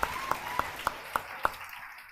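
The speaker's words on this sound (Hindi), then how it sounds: "जोर से ताली" Six sharp, evenly spaced claps ring out in the open, one roughly every third of a second, bright and close, with a faint ambient hum under them and no crowd applause following.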